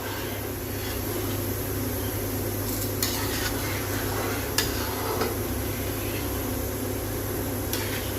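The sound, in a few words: gram flour (besan) being stirred and roasted in a pan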